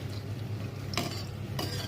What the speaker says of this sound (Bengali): লম্বা করে ফালি করে নিয়েছিলাম, সেটা ঘিতে ভেজে নিচ্ছি।